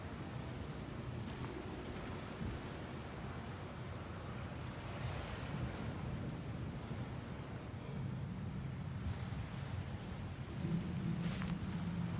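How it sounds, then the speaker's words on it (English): Water rushes and flows steadily in the God of War Ragnarok video game, a broad continuous roar with a faint rumble, fairly quiet and without speech. "Sounds like you got the water moving along"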